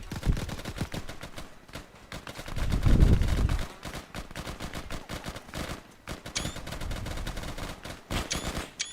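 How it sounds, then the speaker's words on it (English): Dense gunfire and grenade explosions from an Arma 3 battle form a loud continuous fusillade of rapid shots, with a deep booming blast near the middle. "Christ, that is a lot of grenades."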